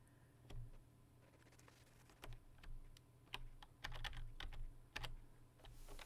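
Keys pressed on a computer keyboard while editing video, scattered faint clicks in irregular bursts over a quiet background hum.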